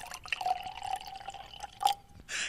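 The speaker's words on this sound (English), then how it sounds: "when you take it in your hand and you pour it in your glass" Tea pouring from a bottle into a glass, a steady liquid stream with a few drips and a brief splash near the end, close and fairly quiet.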